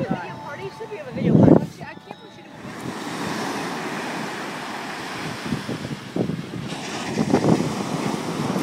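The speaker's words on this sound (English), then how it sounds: "Hopefully you guys can hear me. It's with the wind." Strong wind buffets a microphone at a beach, a constant roar with gusts, while surf washes in underneath and someone talks over it.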